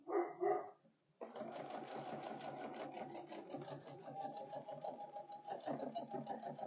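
A sewing machine stitches across webbing on a tote bag made from upcycled jeans: a steady, fast mechanical whir runs close and evenly for several seconds after a short burst of other sound at the start.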